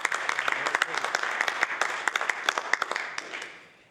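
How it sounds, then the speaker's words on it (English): Members of a legislative House of Assembly in Halifax applaud, a moderate, fairly quiet patter of clapping with distinct claps that thins and fades out toward the end. "So I'd like her to rise and receive the applause of the members in the House."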